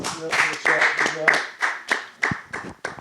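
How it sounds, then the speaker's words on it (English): A small group claps for a golfer's hole in one, giving scattered, uneven hand claps that start together and thin out over three seconds, with voices mixed in. "Let's right. give him a round of applause."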